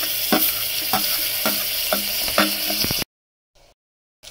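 Tomatoes fry in a hot sambar tempering with curry leaves, a loud close sizzle punctuated by a handful of rhythmic spoon strokes against the pan before it cuts to near silence.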